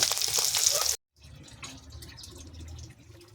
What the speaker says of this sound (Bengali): মাছগুলো এরকম করে ভেজে নিয়েছি, মাছ ভেজে নিয়েছি, এবারে তুলে নেব।